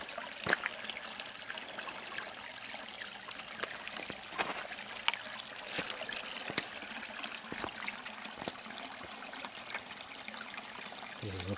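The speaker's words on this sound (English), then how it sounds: "This creek flows down into the Gloucester River" A creek in Barrington Tops National Park, Australia, flowing toward the Gloucester River, trickles and babbles steadily nearby, with small splashes and drips over a continuous watery hiss.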